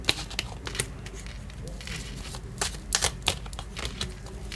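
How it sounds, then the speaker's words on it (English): Cards are riffled and shuffled in quick bursts of crisp flapping and clicking, with small pauses between riffles, close up over a faint background hum. "my video was cut while I was shuffling the cards"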